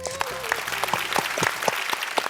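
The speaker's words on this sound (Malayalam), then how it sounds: "ഫാസിൽ സാറിന് വലിയൊരു കൈയടി." A studio audience on a televised music show claps steadily with dense overlapping hand claps, while a voice speaks over the applause.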